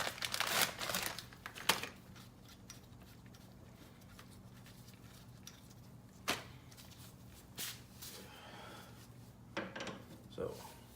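Plastic bag handled during DIY tie rod replacement on a 2004 Nissan Maxima, quiet crinkling bursts near the start, then sparse rustles and scrapes spaced apart over low background hum.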